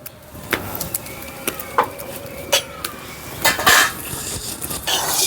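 A metal wok is set on the heat for a tomato dish, producing a series of sharp, separate clanks and clinks of metal on metal close by. Softer scraping follows between the knocks.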